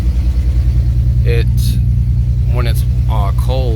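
A two-seat Nissan 300ZX idles cold with a loud, steady, lumpy throb and a faint exhaust rattle underneath, while someone talks over it close by.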